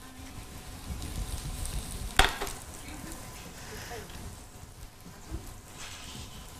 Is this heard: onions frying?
yes